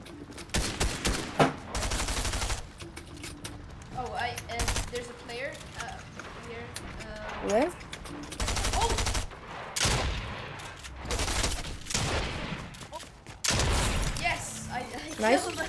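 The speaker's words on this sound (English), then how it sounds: "You killed him with the shotgun." Gunfire in a shooter video game, including shotgun blasts, comes as loud sharp bursts spread across the clip between quieter stretches of in-game sound.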